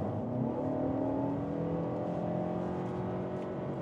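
A Mercedes compact SUV, either a GLA or GLB, accelerates hard in sport mode, its engine note rising steadily in pitch as a smooth, even drone heard from inside the cabin, with no talking.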